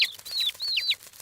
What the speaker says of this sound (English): Those baby birds look hungry.